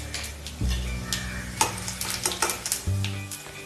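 Cumin, fennel, cinnamon, cloves and pepper frying in hot oil, a steady close sizzle with crackling pops and a few low clunks of a pan or spoon, no talking.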